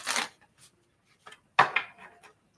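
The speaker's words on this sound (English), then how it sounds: "All right, this will be our last shuffle." A deck of tarot cards is shuffled by hand in a quiet room, giving short crisp riffling bursts separated by pauses, close and fairly soft.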